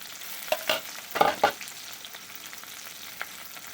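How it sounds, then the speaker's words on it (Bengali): Onions fry in hot oil for chicken do pyaza, a soft steady sizzle broken by a few sharp spatula scrapes and clicks early on, then settling. "তাই এটা আমি তেলে দিয়ে দিচ্ছি, একটু নরম করে ভেজে নেব"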